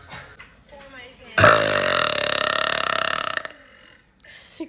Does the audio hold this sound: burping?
yes